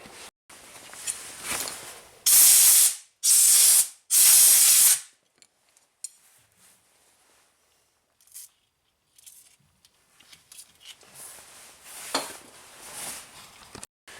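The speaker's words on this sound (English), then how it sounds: "spray it with some Kroil" Three loud, sharp bursts of Kroil penetrating oil spray hiss from a can onto a Nissan Rogue ball joint, followed by quieter clinks and shuffling sounds nearby.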